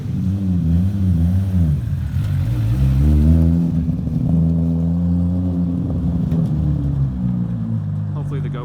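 A car nicknamed Clyde, being considered for a stroker kit, pulls away with a loud, close engine roar that climbs and shifts pitch through several revving surges, with faint voices around it.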